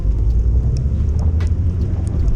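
A BMW E90 drives with its stock exhaust and the cutouts closed, giving a steady loud low rumble of engine and road noise with faint higher tones on top and no talking.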